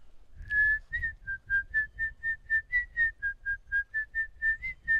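A person whistles a melodic tune, a clear, steady run of about fifteen sustained pitched notes with even rhythm, up close and alone over faint low background rumble.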